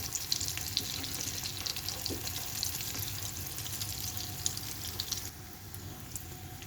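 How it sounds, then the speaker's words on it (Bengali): Katla fish kebabs frying in oil in a pan, a steady close sizzle and crackle with faint clinks, lasting several seconds before quieting slightly toward the end. "এই তো আমার কাবাব ভাজা হয়ে গেল। এরকম করে লাল লাল করে তোমরা ভেজে তুলবে।"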